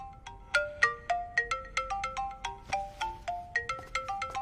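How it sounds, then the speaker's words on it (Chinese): A phone ringtone plays a bright, repeating melodic pattern of quick plucked-sounding notes, clear and close, with no talk over it. "我先去接个电话"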